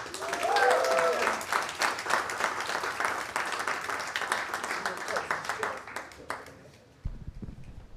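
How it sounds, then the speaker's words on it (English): Comedy club crowd at Go Bananas applauds a comic taking the stage, a thick burst of clapping with some vocal cheering that stays strong before thinning and fading out near the end. "Big round of applause for Mr. Josh Glass."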